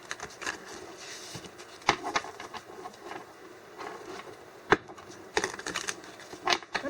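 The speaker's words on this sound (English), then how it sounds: "I'm going to go ahead and shuffle." Tarot cards being shuffled by hand after the deck is split, giving soft papery riffles and flicks with a few sharper snaps, close and fairly quiet, with no talking.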